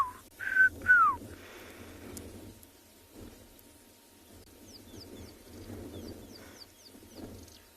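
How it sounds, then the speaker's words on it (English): Black-crowned tchagra calling on a South African afternoon safari, a few loud descending whistled notes near the start, then fainter repeated chirping phrases further off over a low rumbling outdoor background. "You can hear a black-crowned shagra going."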